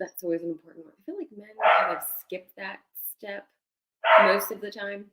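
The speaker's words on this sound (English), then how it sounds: "That's a dog." A corgi mix dog named George barks in two short, loud bursts, close by, over and between ongoing conversation.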